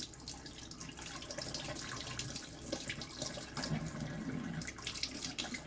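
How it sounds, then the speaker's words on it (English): Steady running tap water splashes over a La Lune coticule honing stone, washing slurry off in a continuous close rush with no talking. "Wash off any traces of slurry."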